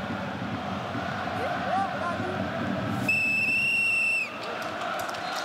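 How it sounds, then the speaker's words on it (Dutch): At the start of an Eredivisie football match between AZ and Go Ahead Eagles, a referee blows one sustained, piercing whistle blast of about a second over a steady stadium crowd murmur and a commentator's voice. "En zij zal het eerste fluitsignaal gaan geven."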